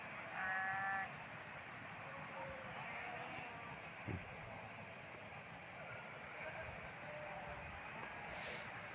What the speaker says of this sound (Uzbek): Mana qo'ylar ketyapti qatorga.